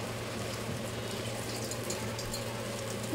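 Snakehead fish frying in hot oil in a pan, a steady dense sizzle with fine crackling that holds level throughout, close and fairly loud with no voices.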